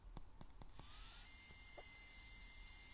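An electric drill whirs into a steady, high-pitched whine after a few sharp clicks, then keeps running evenly and fairly close in a pretend dentist's scene.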